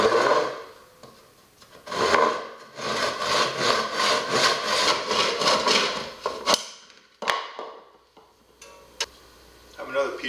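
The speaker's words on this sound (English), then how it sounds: "I'm going to cut it 28 inches long and just use an ordinary saw." An ordinary hand saw cuts through a length of 1x1 lumber, giving a steady run of rhythmic rasping back-and-forth strokes that then stop, followed by a few sharp knocks and handling noises.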